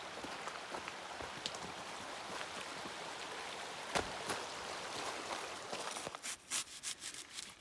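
Shallow, low-running creek water trickles and splashes steadily while potatoes are washed in it outdoors, with a few sharper splashes and rubbing sounds near the end.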